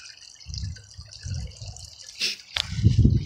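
Water trickling and dripping over a rebuilt backyard pond waterfall, with soft intermittent splashes and a brief louder spill, close by and fairly quiet.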